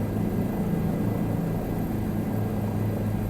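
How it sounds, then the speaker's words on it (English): A helicopter in Microsoft Flight Simulator 2020 gives off a steady, loud low-pitched engine drone with rotor thrum, continuous and unbroken. "try and get the helicopter moving in the direction you want it to move"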